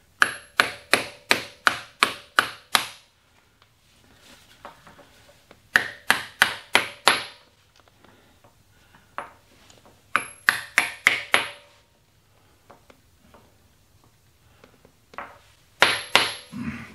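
A hammer drives an insertion tool to press a new oil sight window into an old machine tool, giving bright metallic pings in quick bursts of five or six blows with pauses and quieter taps between.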